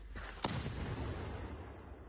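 A single sharp gunshot cracks near the start on the eastern front near Kupiansk, followed by a long rumbling echo that rolls off slowly in an open outdoor space.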